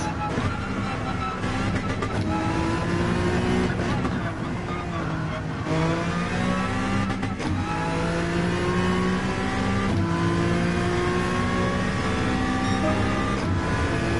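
Honda NSX race car engine in Gran Turismo, a steady high-revving drone with repeated gear changes and rising pitch sweeps as it accelerates around a lap, loud and continuous with a voice talking over it.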